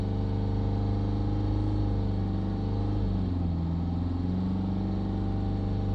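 A Mercedes C-Class engine with boost faults P0299 and P2463 runs steadily at about 3000 RPM, a constant loud drone whose pitch dips and shifts slightly partway through. No one speaks.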